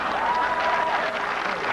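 Studio audience applauding a comedy panel show, dense steady clapping that stays loud and even for the whole short stretch.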